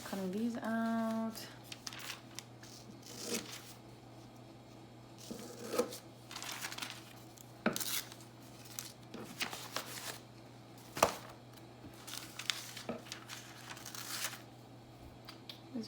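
Scissors make scattered soft snips and paper rustles while popsicle pictures are cut out of magazines, quiet and close, with a brief voice near the start.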